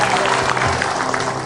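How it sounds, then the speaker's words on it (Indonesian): A studio audience applauds a guest, Egy John Forsyth, on the Indonesian TV talk show Hitam Putih: a steady, dense wash of clapping held for the whole short stretch, with no one talking over it. "tepuk tangan dulu untuk Egy"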